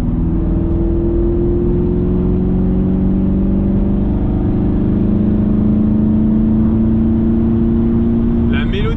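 A sports car engine, such as a Camaro SS 1LE or Mustang Shelby GT350, revs steadily through rising and falling RPMs, a loud continuous drone whose pitch slowly climbs, heard up close with voices talking over it.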